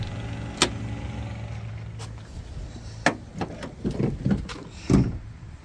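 A pickup truck's hood is opened: a few sharp metallic clicks and latch clunks close up, followed by a cluster of thumps and rattles near the end.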